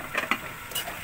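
Garlic, onion and lemongrass being sautéed in hot oil for a Kapampangan chicken lemongrass soup, with soft sizzling and a few quick stirring scrapes and ticks, close and fairly quiet.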